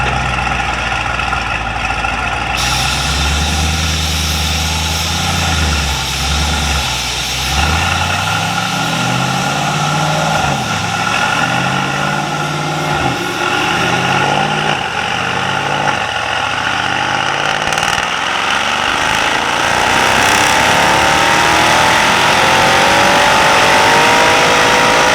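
A 2021 Mercedes-AMG E63S W213 on a dyno, its engine loud and close as it climbs steadily through a long rev sweep, the pitch rising for about twenty seconds before holding near the top.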